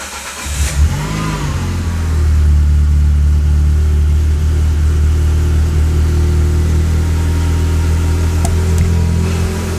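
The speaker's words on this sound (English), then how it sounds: "I'm just gonna turn on the car and you can hear the cold start." A car with an aftermarket exhaust cranks and catches on a cold start, then settles into a loud, steady high idle with a deep, droning exhaust rumble.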